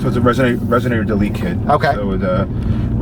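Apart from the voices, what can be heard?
No everyday noises stand out.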